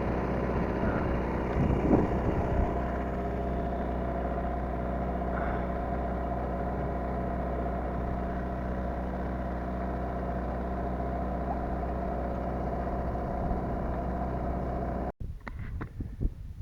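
A small boat motor drones steadily at close range over open water, with faint wind noise, then cuts out abruptly near the end, followed by brief handling clatter.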